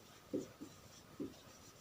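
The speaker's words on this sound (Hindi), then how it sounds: "यहाँ पे मैं सिद्धांत लिख देता हूं।" Chalk or marker writing a word on a board, a few short faint scratchy strokes in a quiet room.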